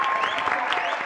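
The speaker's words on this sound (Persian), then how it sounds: "شما را هم تشویق کنم." Dense, steady applause from a TV comedy show's studio audience, loud and close, filling the whole short moment without any break.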